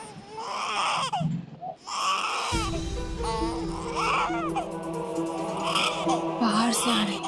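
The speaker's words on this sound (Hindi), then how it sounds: "बच्चे के रोने की आवाज" An infant cries in sobbing, whimpering bursts that rise and fall, fairly close, alternating with babbling and some other vocal sounds; a steady hum runs beneath the later half.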